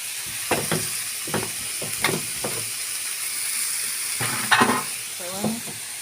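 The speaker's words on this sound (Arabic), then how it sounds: "بديها تقليبه" A spoon stirs food in a sizzling frying pan, with scraping clanks and gentle stirring strokes in irregular bursts over a steady background hiss.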